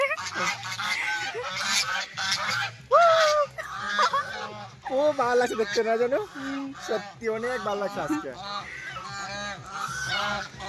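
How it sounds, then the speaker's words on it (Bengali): Geese at Silchar Hidden World Park honk loudly and repeatedly at nearby visitors, a close, insistent chorus of cries mixed with people chatting. "তো হাঁসগুলি আমাদেরকে দেখে অনেক চিৎকার করে উঠেছে"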